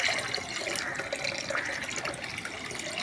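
Lime water being poured: a steady, continuous liquid stream splashing nearby for a few seconds, moderately loud and alone, with no voices.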